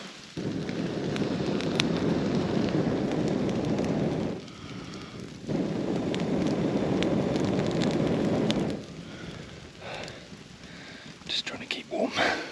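Steady rain falling on a shelter in the Kaimanawa backcountry during a sika deer hunt, loud and continuous with a brief lull near the middle and a thinning toward the end.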